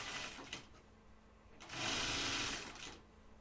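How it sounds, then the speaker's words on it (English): A sewing machine edge stitches close to the border of a fabric strap, running in bursts with a longer steady stretch in the middle, close and clear. "So I'm going to edge stitch my strap."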